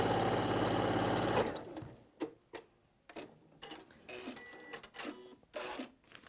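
Sewing machine stitching a Christmas Highland cow cushion, a steady close mechanical whirr of rapid needle strokes that stops after a second and a half, followed by scattered clicks and handling knocks.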